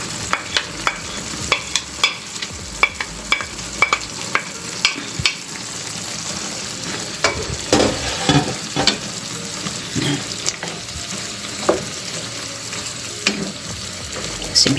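Carrots stir-fried in a pan for pancit bam-i, a continuous loud sizzle broken by frequent sharp scraping and clacking from a spatula against the pan, close up with no talking.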